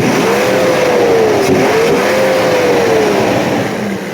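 Mercedes M120 V12 from a 1996 to 2001 model, throttle being opened in a test: a loud, steady engine rev rises, dips briefly, then climbs again before easing off over a few seconds.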